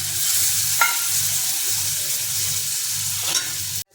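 Tomatoes with asafoetida, red chili masala, coriander powder and garam masala fry in a pan for a dried fish dish, giving a steady close sizzle broken by two brief stirring scrapes, then cutting off abruptly.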